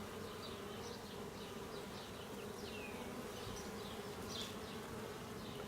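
Honey bees swarm over a hive frame during an inspection, making a dense, continuous buzzing hum close by with individual bees whining past, and no voices.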